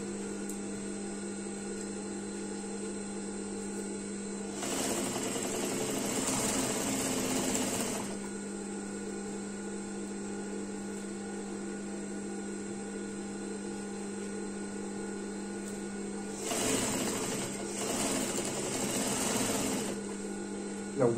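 A sewing machine stitches leather onto a coat, running with a steady close mechanical hum and two louder bursts of fast stitching.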